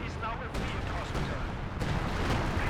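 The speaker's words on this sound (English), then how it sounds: "We have the artillery call in." Artillery strike in Company of Heroes 2 on the Road to Kharkov map: several heavy booms land in quick succession about half a second apart, over a dense rumbling battle din.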